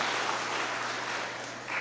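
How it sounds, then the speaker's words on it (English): Audience applause fills a room during a Roane State Middle College cording ceremony, a steady, dense wash of clapping that holds even from start to finish. "We clap them anyway."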